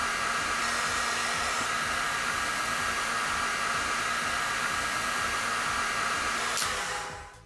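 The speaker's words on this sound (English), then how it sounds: "I put the heat gun at the maximum temperature, and I direct the hot air upwards so as not to burn anything." A heat gun at maximum temperature blows hot air onto an alternator connection during soldering, a loud, steady, close roar that holds constant before winding down at the end.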